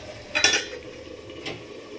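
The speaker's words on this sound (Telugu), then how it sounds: "మూత పెడుతున్నాను." A lid set down on a pan of frying tomatoes: one bright metallic clatter, then a softer clink a second later, over a faint, steady sizzle close by.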